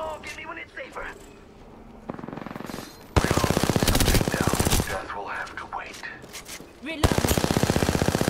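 Rapid automatic gunfire in Apex Legends, loud sustained bursts of evenly spaced shots in two long volleys, with game voice lines and other effects between them.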